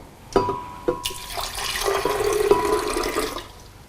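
Water poured into a glass or jug for a strawberry and raspberry tea cocktail, a close, steady gurgling stream that starts with clinks and tapers off after a few seconds.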